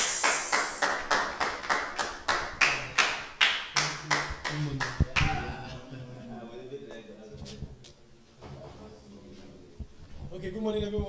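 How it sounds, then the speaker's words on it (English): An audience at a morning business seminar claps in a slow, regular unison rhythm, about a dozen evenly spaced claps, then breaks into looser scattered clapping mixed with voices and cheering. "with a clap and ovation, let's welcome our speaker, Mr. MJ Success."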